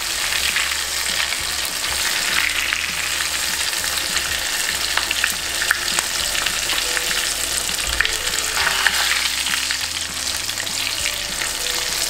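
Shrimp fritters (ukoy) fry in hot oil with a loud, steady, dense sizzle and crackle, punctuated by occasional stirring scrapes, with no voices.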